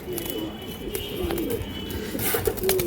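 Domestic pigeons of an old Bangladeshi breed cooing in a loft, soft low murmuring calls repeating close by under a faint hum, with scattered higher bird sounds and a voice talking briefly.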